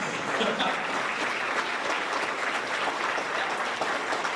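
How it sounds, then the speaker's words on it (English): An audience at a grades 4–6 school awards ceremony claps steadily for the teachers, a dense, even patter of many hands that continues throughout at moderate loudness. "Do I need to tell you to clap?"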